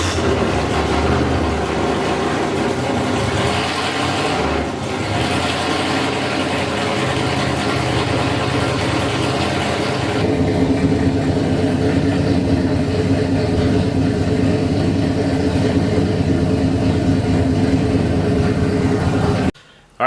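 A vehicle engine runs loud and close after an oil change, holding a steady idle with a rumbling drone that shifts in tone midway before cutting off abruptly at the end.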